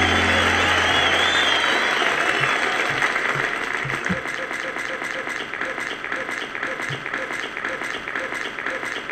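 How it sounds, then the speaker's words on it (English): Loud sustained applause for a caller named Rob during a live stream, a dense continuous wash of clapping that stays strong throughout with faint voices underneath. "Give a round of applause for Rob"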